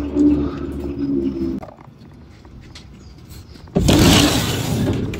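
Racing pigeons back from a 170 km training flight from Buenavista, Quezon coo in a low murmur at first, then go quiet before a louder burst of fluttering wings and bird noise close by.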